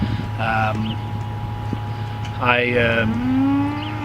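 Crossbred dairy cows on a large milking farm moo in two long, low calls, fairly close, over a steady mechanical hum from farm equipment.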